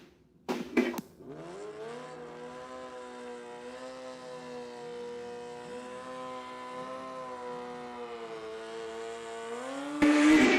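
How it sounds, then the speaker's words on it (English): Drag racing motorcycle engine at a street legal drag strip at Numidia during a semi-final, a sustained high revving whine held steady for several seconds, loud and close, after a short burst of noise. "we got the motorcycle semi-final coming to the water box right now"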